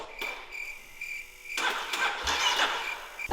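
A dirt bike engine sputters as someone tries to start it: a brief catch, a pause, then a louder ragged burst of cranking and coughing, close by, with no talking.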